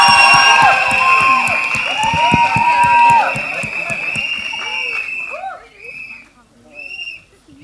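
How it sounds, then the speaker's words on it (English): A crowd at a Bollywood film trailer launch cheers, whistles and claps for a producer entering, loud and lively for several seconds before fading, with shouting voices mixed in. "please give a big round of applause for the super producer of Flying Jet, Ekta Kapoor, in the house."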